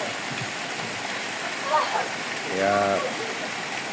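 Water from Kabuayahan falls flows out in a steady hiss and gurgle beneath a voice speaking close by.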